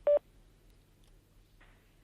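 A telephone line during a call transfer: one short, bright tone beep at the start, then near silence, then a fainter, shorter tone burst.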